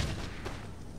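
Cannons boom in an Empire: Total War battle, a low rumbling thud at the start trailing into dense, muffled distant blasts and battlefield noise, fairly quiet and continuous.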